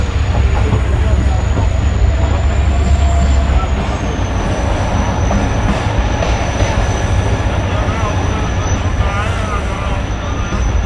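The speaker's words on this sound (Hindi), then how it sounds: "ट्रेन हमारी पहुँच चुकी है खैरपुर रेलवे स्टेशन पर" The Tezgam passenger train at Khairpur railway station, heard as a steady loud rumble of rolling carriages with metallic wheel squeal and faint clatter throughout.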